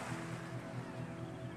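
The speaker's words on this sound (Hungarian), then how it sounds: "Hallod a sirályok hangját és a tenger morajlását." Sea waves and surf wash steadily at low level, a soft continuous roar with gentle swells, heard alone without voices.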